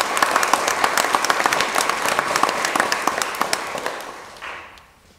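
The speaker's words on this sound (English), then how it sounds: "Let's welcome her to the role with a round of applause." A church congregation at an archdeaconry service breaks into loud, close applause, with sharp individual claps standing out from the crowd before it tapers off over the last second.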